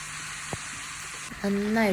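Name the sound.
grated carrot frying in ghee for carrot halwa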